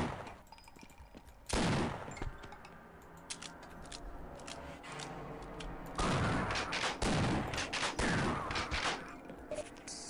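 Gunfire blasting at wooden planks in the video game Half-Life, sharp loud shots with a burst of rapid fire, standing out against a quieter mechanical background hum.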